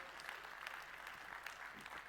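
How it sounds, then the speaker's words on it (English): Audience applause at a Web3 community talk, a steady patter of many hands clapping at a distance, fairly faint and even throughout. "All right, come on, some applause."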